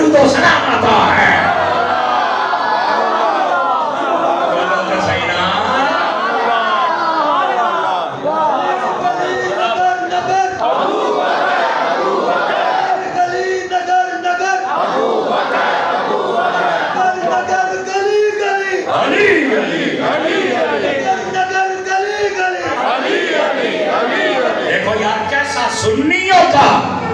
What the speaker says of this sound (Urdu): جس میں آل کے نعرے بھی لگ رہے ہیں اصحاب کے نعرے بھی لگ رہے ہیں